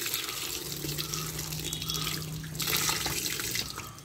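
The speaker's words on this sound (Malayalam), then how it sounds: "നമുക്ക് പേരക്കും വെള്ളം ഒഴിച്ച് കൊടുക്കാം." Water is poured onto a guava plant in a home garden, a steady gushing stream that runs continuously for a few seconds at close range, swelling slightly toward the end.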